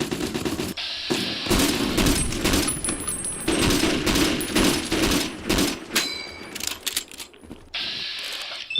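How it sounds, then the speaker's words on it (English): Rapid bursts of automatic gunfire in Fallout New Vegas, loud and dense with brief gaps between volleys, sounding close and continuous. "shooting."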